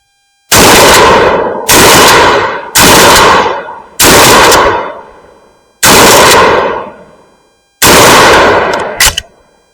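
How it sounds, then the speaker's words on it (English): A 1916-made Winchester 1897 12 gauge pump shotgun loaded with tactical buckshot fires six loud, sharp blasts at uneven intervals of about one to two seconds, each decaying quickly, with a metallic clack after the last. "6 shots from our 1897"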